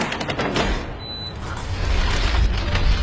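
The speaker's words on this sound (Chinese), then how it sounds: "来开机关。" In the video game Uncharted 2, an ancient stone mechanism activates with a heavy grinding rumble. The rumble builds into a loud, sustained low roar with scattered clanks on top.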